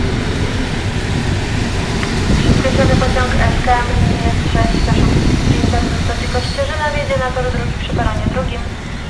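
An SU42 diesel locomotive pulling a POLREGIO carriage rolls into Gdynia Główna station, with a steady rumbling engine and clattering wheels under a loud platform announcement and chiming tones.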